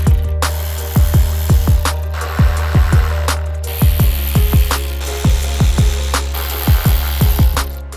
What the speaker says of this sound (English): You're going to remove the bolts and the nut from the spoiler stalks.